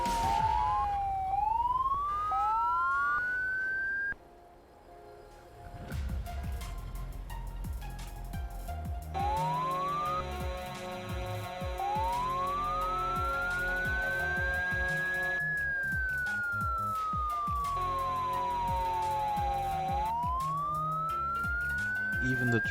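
A police car siren in a racing video game wails up and down in long sweeping cycles over steady engine drone, loud and continuous throughout.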